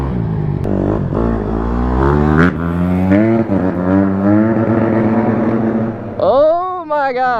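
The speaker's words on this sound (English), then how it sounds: "that car sounds crazy" A motor vehicle engine, apparently a Honda dirt bike, revving hard nearby with rising and falling pitch, ending in a sharp rev, while people talk and shout excitedly over it.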